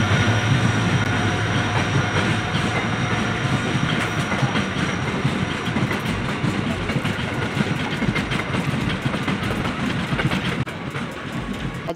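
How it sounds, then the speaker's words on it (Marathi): The Miraj Bikaner Express runs along the track between Rajewadi and Pune, a loud steady rumble of rolling wheels and rattling carriages heard from on board, continuous throughout. "ही आहे मिरज बिकानेर एक्सप्रेस."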